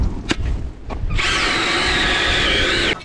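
A powered ice auger bores through lake ice on a frozen lake, its steady high-pitched motor whine starting after a few faint knocks and running loud and even for about two seconds before cutting off.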